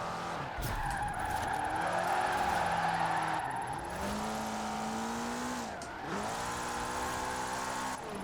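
A car slides sideways in Forza Horizon 4, its tires squealing in long wailing skids over a droning engine that drops and climbs with each drift, steady and loud without any voices.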